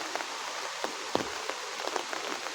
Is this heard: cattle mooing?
no